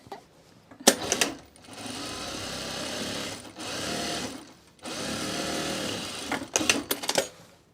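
Two long, steady runs of a sewing machine stitching scrap fabric mulch mats, split by short pauses and edged with clicks and rattles from handling, sounding close and loud without speech.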